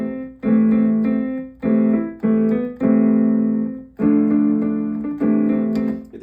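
Jingle Bells melody played in a minor key on a sustained, tonal instrument, a short run of clear, separate held notes and phrases, steady and close, with no talking.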